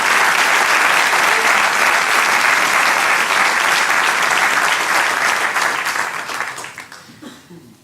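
A church congregation applauds loudly in continuous dense clapping that holds steady for several seconds, then thins out and fades near the end.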